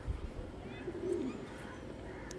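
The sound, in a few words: pigeon cooing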